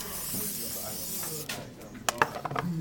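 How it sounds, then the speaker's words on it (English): Foam cleaning spray is sprayed across a computer keyboard in short bursts, with a hissing spray followed by a few sharp clicks and taps near the end. "I'm just going to go over it with this foam spray and then use some of these wipes."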